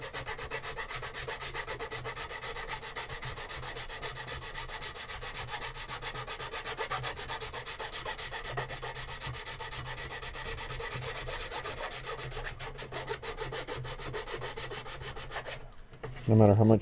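A hand file rasps steadily across flat spots on a workpiece, a continuous scraping rub at moderate level, ending in a brief louder burst.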